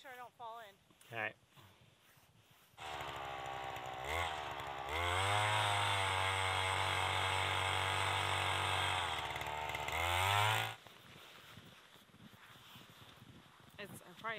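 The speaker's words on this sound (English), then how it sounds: "I'm drilling my hole." A motorized ice auger starts up and roars steadily for several seconds drilling through lake ice on a snowy day, its engine pitch rising, then cuts out to quiet outdoor ambience.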